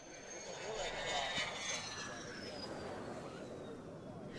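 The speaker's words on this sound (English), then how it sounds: "you notice when that F-16 just then came into land, how low it came over" A low-flying F-16 fighter jet comes in to land with a whining engine tone that slides downward as it passes, over a rushing roar that peaks early and then eases, with a voice speaking over it.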